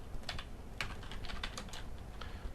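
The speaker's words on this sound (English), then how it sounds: "I'll type it in," Quick, faint keystrokes tap on a computer keyboard in an irregular burst of clicks, close and alone with no talk.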